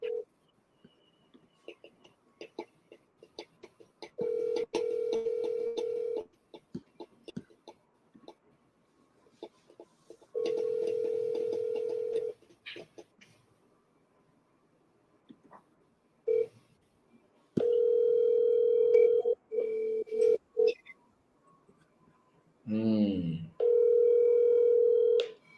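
Phone call to a buyer: bursts of dial tone and touch-tone keypad beeps, then repeated long ringback tones with gaps between, ending in a short warbling tone, with faint clicks in the quiet stretches.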